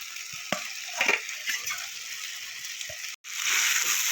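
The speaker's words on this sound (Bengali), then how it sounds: "মশলার সাথে আলু আর ফুলকপিটা আমার কষিয়ে নিয়েছি" Potatoes and cauliflower sautéing with spices in a pan, a soft steady sizzle with a few stirring scrapes and clinks, heard close up with no talking.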